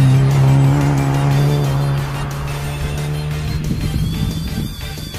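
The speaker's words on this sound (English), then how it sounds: "let's see how well the Yaris does around Curborough" Toyota Yaris on the Curborough sprint circuit, a loud engine droning at steady pitch that then shifts and fades slightly as the car drives on, with tyre noise and some squeal.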